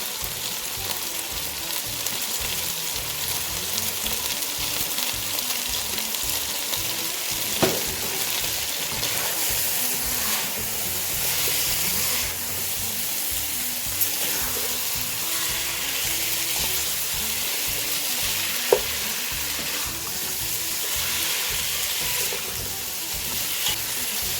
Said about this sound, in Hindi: ये देखिए ये अच्छी तरह इसकी भी भुनाई हो गई है